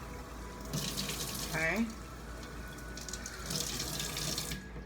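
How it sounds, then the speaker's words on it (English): Hot water pours from a tap into a small bottle, a short splashing stream that starts, pauses briefly and resumes, with a single brief spoken word near the start. "I'm adding hot water to this."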